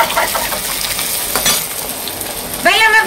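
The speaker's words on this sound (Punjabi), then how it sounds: "ਲਓ ਜੀ ਆ ਦੇਖੋ ਭਿੰਡੀਆਂ ਚਲੀਆਂ ਤੇਲ ਚ" Okra (bhindi) hitting hot oil in an open cooking pot, giving a steady broadband sizzle and crackle throughout, fairly close and loud, with a brief voice near the end.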